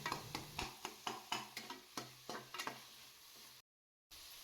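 Tomatoes sautéing in hot oil for a village-style country chicken curry, with repeated sharp stirring and scraping strikes in a steady rhythm over a soft sizzle, close and fairly loud, then a brief cut to silence.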